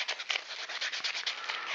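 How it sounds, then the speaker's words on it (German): Sandpaper rubs over a hand-carved wooden tiger in a steady series of close, scratchy strokes with no talking. "Und ihr beginnt einfach mal mit einem groben Schleifpapier und arbeitet euch dann immer mehr zu einem feineren durch."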